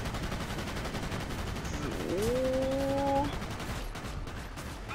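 Aircraft machine gun fire in World of Warplanes, a steady rattling burst lasting about a second under engine drone, with a rising whine alongside and a brief word spoken.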